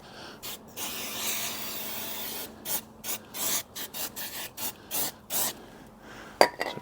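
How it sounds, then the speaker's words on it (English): Brake and parts cleaner sprayed onto the front of a Chevy LS3 crate engine or gearbox, then wiped off with a cloth: a long hissing spray burst followed by a series of short rhythmic rubbing strokes, close and clear with no talking. "a little bit of brake and parts cleaner on the front and just wipe that off"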